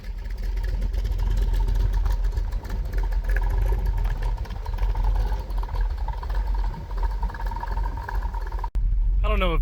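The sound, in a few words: car engine idling, running lean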